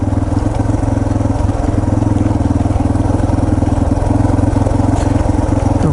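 A Yamaha TT-R230 dirt bike engine runs steadily on a rutted trail at Windrock Park, a loud, close, continuous mid-pitched drone with an even throb that barely changes over the whole stretch.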